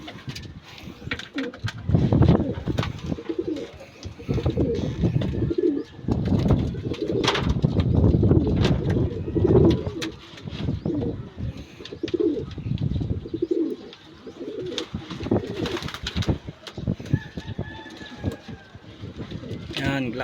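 Pigeon hens cooing at a racing-pigeon loft during a race arrival, soft repeated coos and wing sounds heard under frequent nearby conversation.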